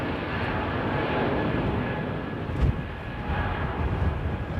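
An Airbus A320neo jet at London Heathrow Airport gives off a steady, moderately distant engine roar that holds level throughout, with no talk over it.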